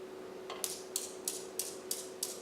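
Objects collide repeatedly in a classroom momentum demonstration, six sharp, evenly spaced clicks over a faint steady hum.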